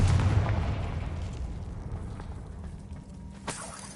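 Spell explosions in Hogwarts Legacy give a deep rumbling boom that slowly fades, with a sharper crack near the end.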